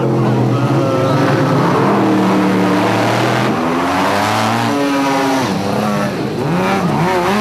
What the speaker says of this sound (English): cars blasted off the line at intervals determined by the times they set on the Donaldson prologue